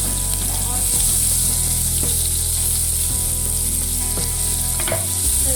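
Chopped green chillies and onions fry in hot oil in a pan, a loud continuous sizzle with occasional scraping stirs throughout.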